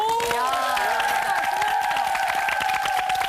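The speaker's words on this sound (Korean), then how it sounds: "박수 한번 주세요" Studio audience on a Korean TV food-experiment show applauding steadily throughout, dense clapping mixed with bright musical tones and sliding effects, at even loudness.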